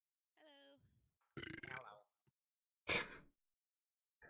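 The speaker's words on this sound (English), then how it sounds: "The one thing that we really didn't want people to hear was a massive belch" Several loud, croaky belches in short bursts separated by silence, close to the microphone, with a brief voiced sound at the start.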